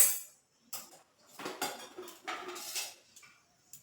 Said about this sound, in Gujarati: મેં નોનસ્ટિકની કઢાઈ લીધી છે.